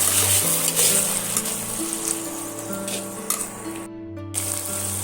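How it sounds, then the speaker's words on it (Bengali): Ginger-garlic paste sautéing in oil in a pan, a steady close sizzle with stirring scrapes running throughout, with music or hum tones layered over it. "ভালো করে এইভাবে কষাতে থাকবো যতক্ষণ না আদা রসুনের কাঁচা গন্ধটা চলে যাচ্ছে আর সুন্দর একটা তেল ছেড়ে দিচ্ছে"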